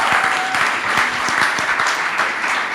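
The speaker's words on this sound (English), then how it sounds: "let's give Joel a big round of applause" Audience giving a big round of applause at a church conference conversation, loud dense clapping sustained throughout with no talking.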